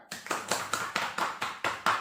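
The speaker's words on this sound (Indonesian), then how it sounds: "Tepuk tangan dulu dong." A small group in a class talk show claps in a steady, evenly spaced rhythm, about nine crisp, close hand claps over a couple of seconds.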